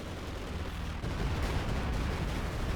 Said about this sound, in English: That was an okay Stuka